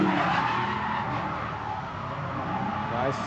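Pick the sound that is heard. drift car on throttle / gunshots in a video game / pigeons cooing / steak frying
drift car on throttle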